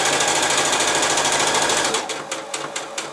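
Sewing machine stitching a zip into the back of a cushion cover at its longest 4.5 mm stitch length. A loud, close, continuous mechanical whir runs first, then slows into distinct rhythmic stitch pulses. No talking.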